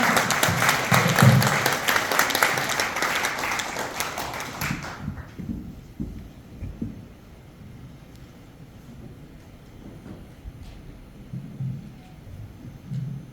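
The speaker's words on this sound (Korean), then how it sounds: "총재님을 여러분의 힘찬 박수로 무대 위로 모셔보도록 하겠습니다." Audience applause welcoming the president to the stage at a book launch forum held at the War Memorial hall, dense clapping for about five seconds that then cuts off abruptly, leaving quiet room noise with a few faint low sounds.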